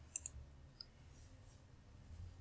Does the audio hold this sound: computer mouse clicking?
yes